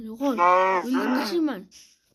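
A cow moos loudly nearby, one long drawn-out low call that breaks into a second shorter bellow before fading out.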